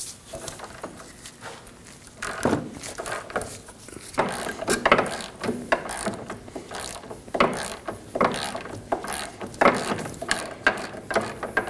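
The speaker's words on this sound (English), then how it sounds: "We'll remove the upper bolt and nut with a 14mm." A ratchet fitted with a 14mm socket loosens a sway bar link bolt on a 2003-2006 Subaru Baja, giving repeated bursts of close, crisp clicking strokes with short pauses between them.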